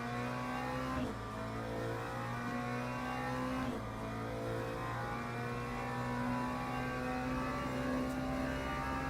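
A GT3 race car in Le Mans Ultimate holds a steady, buzzing engine drone while its tyres spin up, with two brief dips where the revs break before climbing back.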